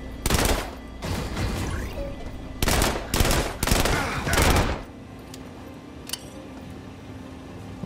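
Bursts of assault rifle fire in System Shock Remake, several loud rapid volleys in quick succession followed by quieter ambient hum.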